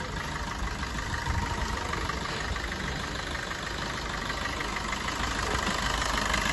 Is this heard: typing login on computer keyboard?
no